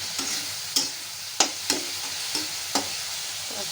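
Food frying in a small amount of oil in a pan, a steady soft sizzle broken by several sharp scrapes and clacks of stirring at irregular intervals, close and fairly quiet with no voices.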